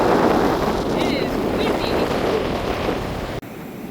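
Strong wind buffets the microphone on an exposed beach during a rainy day at Yamba, Australia, a constant broadband roar with surf-like wash beneath, a faint voice briefly in the mix, cutting out near the end.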